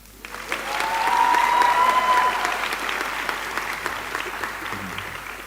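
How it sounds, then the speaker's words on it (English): Audience applauding at a girls' school prize giving, a sustained round of dense clapping that swells quickly and then slowly tapers off, with a faint tone in the hall early on. "I think they need another round of applause."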